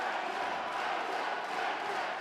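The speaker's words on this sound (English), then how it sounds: "The crowd here in Alfreton going wild for Josh Layton." A fight crowd in Alfreton roars and cheers for tap-and-snap fighter Josh Layton against Tomasz Koszminski, a dense, steady wall of loud crowd noise with no gaps.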